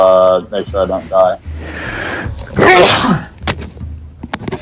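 Single sharp sneeze in the middle of a voice-chat conversation, loud and close, with talking before it and scattered mic noise after.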